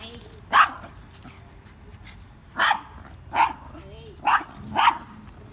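An aggressive small chihuahua barking sharply, five loud separate yaps spaced a second or so apart over a quiet outdoor background with faint talk.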